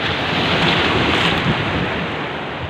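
Large ocean waves break on the shore at dusk in a steady, loud, continuous wash of surf, mixed with wind buffeting the microphone.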